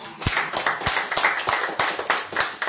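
A church congregation claps hands in a steady, rhythmic beat to acclaim the Lord, each sharp clap close and loud, repeating about every third of a second without pause.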